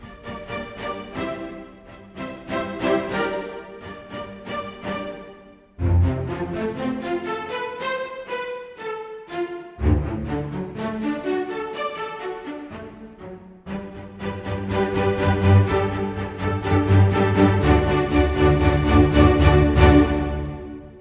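Kontakt 7 Orchestral Library strings playing spiccato, a string section bouncing short detached bow strokes through a busy, fairly loud phrase that pauses briefly and then swells fuller toward the end.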